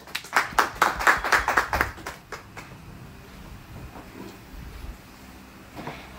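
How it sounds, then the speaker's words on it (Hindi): A small group at a cooler showroom claps in a short burst of about a dozen sharp, close hand claps that trail off into quiet room noise, with a lone clap near the end. "जोरदार ताली बजा लो एक बार सारे के सारे।"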